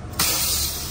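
A strong hissing water spray washes an indoor air conditioner unit, starting abruptly and holding steady and loud at close range with no talk.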